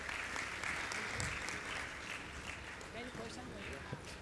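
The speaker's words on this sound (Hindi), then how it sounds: "आप लोग जोरदार तालियाँ बजाते रहें जब तक ये सम्मान।" Vigorous audience applause at a religious gathering honouring a guest, steady dense clapping from a large crowd continuing throughout.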